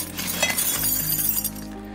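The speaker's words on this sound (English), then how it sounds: "That's broken glass" Broken glass crunches and tinkles in an empty evacuated Japanese city, a sustained gritty crackle with sharp clinks over a low steady hum, close and continuous without voices.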